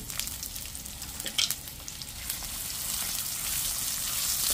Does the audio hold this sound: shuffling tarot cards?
no